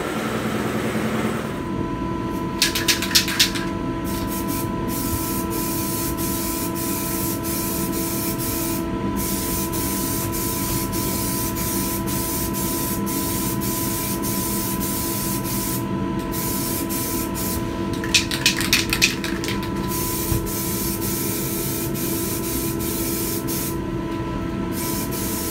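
Primer sprayed onto an F150 dashboard in steady continuous hissing bursts over a constant background hum, with a few brief clicks and rattles, fairly close and without talk.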